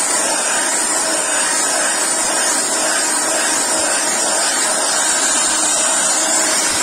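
An electric hand mixer beating homemade powdered soap made from used cooking oil, a continuous loud, even motor whir with a broad hiss, close and unbroken throughout.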